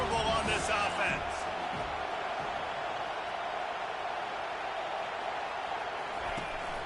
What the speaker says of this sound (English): Fourth down, and this crowd is making it miserable on this offense.